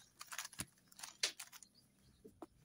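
Rubik's cube being turned and shuffled by hand, a quick run of soft plastic clicks and rattles close by, quiet and irregular with short gaps, no voices.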